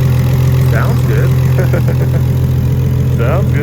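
A Nissan Skyline R32 GTR engine idles steadily with a close, even low hum while people talk over it.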